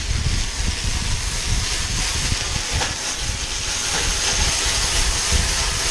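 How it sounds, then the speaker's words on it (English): Cognac and white wine flaming off in a black iron pan for chicken chasseur, a loud continuous roaring hiss and sizzle that holds steady from start to finish. "we're going to add some cognac and white wine, and we're going to attempt to flame it off"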